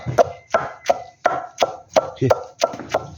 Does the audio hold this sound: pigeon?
no